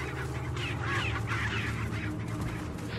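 Chicken clucking in the video game Resident Evil 4, a series of squawking, honking clucks over a low steady hum, fairly close and moderately loud, with no talking.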